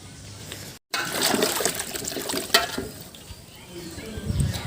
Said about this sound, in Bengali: আমগুলো আমি ভালো করে ধুয়ে নিলাম।